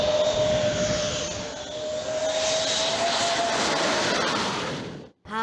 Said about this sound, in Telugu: డమ్మ డమ్మ బాంబులేసే సుకోయ్ యుద్ధ విమానాలు కూడా రోడ్డు మీదనే దిగినాయి.